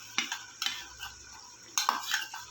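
A spoon scrapes and clinks in a pot as ginger garlic paste is stirred into hot ghee, with a few distinct metallic strokes over a quiet bed of sizzle, no voices.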